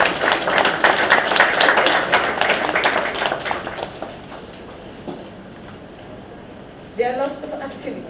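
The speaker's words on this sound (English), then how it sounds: "I would like a round of applause for the board" An audience claps at a gathering of justices of the peace in St. Andrew, sharp scattered claps that build and then thin out, followed by a voice speaking near the end.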